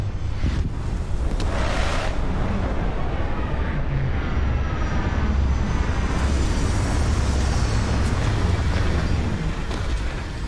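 A spaceship touching down in the game Starfield gives a sustained, loud roaring whoosh like jet thrust mixed with rushing air, steady for the whole stretch with no voices.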